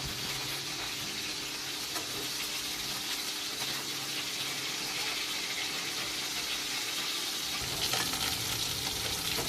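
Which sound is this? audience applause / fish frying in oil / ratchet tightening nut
fish frying in oil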